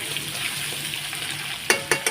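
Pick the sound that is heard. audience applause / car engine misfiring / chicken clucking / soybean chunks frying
soybean chunks frying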